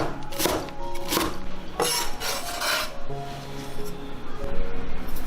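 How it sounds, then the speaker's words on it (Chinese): A knife chops half a head of cabbage on a board in a home kitchen, giving rough, raspy scraping strokes that come in uneven bursts, close and fairly loud, over faint steady background tones. "也是把包菜切碎"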